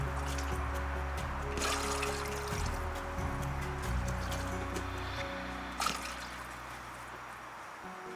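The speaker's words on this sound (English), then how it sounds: "I'm not frying it. I'm adding my water directly." Water trickles and pours straight into a cooking pot on a gas stove for egusi soup, a soft, continuous splashing stream with a few faint clinks, no talk over it.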